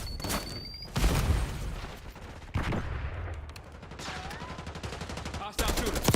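Gunfire from a hostile shooter in Call of Duty: Black Ops 6, with bursts of shots and booms crackling loudly through the game's battle noise in an ongoing match.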